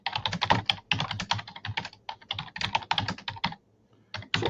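Fingers type quickly and steadily on a computer keyboard, close up, in dense bursts of clicking, with one brief pause near the end before the keys resume. No voices are heard.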